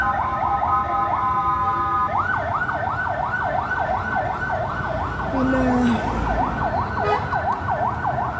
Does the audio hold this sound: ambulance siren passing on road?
yes